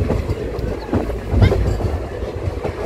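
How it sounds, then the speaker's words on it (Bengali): An Indian express train hauled by a WDP diesel locomotive moves toward New Alipurduar Junction, its close rolling rumble broken by a few heavier thumps and wind buffeting across the microphone. "WDP ইঞ্জিনে টানছে এই ট্রেনটিকে।"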